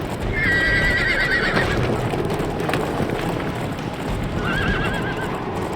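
A horse in the VR video game FATED gallops with rapid, loud clip-clop hoofbeats close by, broken by two distinct neighs, one near the start and one near the end.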